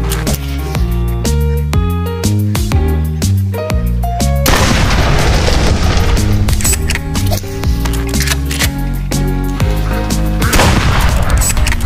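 Repeated sharp gunshots from a light gun aimed at ducks in a scary version of Duck Hunt ring out over loud, steady game music, fired in quick irregular bursts.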